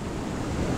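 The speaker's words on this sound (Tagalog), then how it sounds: "ito nga alon oh." Choppy waves on open water on an early, cold fishing outing, a brief rushing wash mixed with wind buffeting the microphone, with no one talking.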